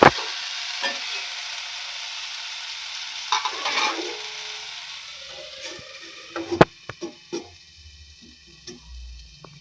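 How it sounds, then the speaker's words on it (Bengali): Potatoes frying in a pan with black cumin for a school tiffin snack, a steady sizzle with scattered clinks and stirring taps, close and moderately loud with no talk. "তাই টিফিনের জন্য আমি আলুটা ভেজে নিচ্ছি।"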